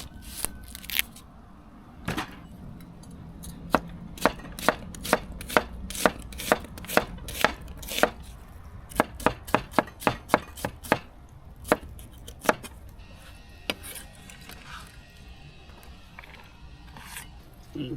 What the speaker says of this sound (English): Okay, now we're going to do half a white onion.